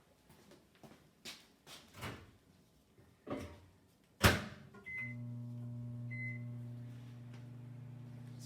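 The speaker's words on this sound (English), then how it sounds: "I'm going to give it a quick little blast in the microwave" A microwave oven runs with a steady low hum while heating mozzarella curd, preceded by several clicks and knocks of the door and buttons, with two short beeps as it starts.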